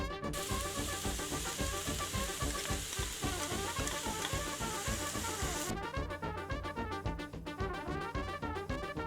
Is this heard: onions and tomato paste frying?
yes